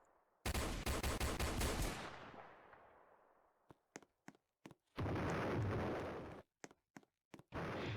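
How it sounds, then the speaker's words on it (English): Gunfire and exploding bombs in the Brookhaven video game during an invasion disaster: a loud rapid burst of automatic fire that rings out and decays, then a handful of sharp single shots and two long roaring blasts. "with invasion, you get sounds of gunfire and you get bombs exploding"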